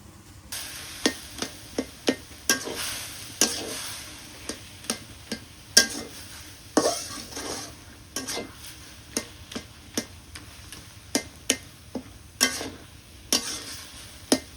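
Chili, onion and garlic being stirred as they fry in oil in a pan, with a soft sizzle under repeated sharp clacks and scrapes of the spatula hitting the pan at an uneven rhythm.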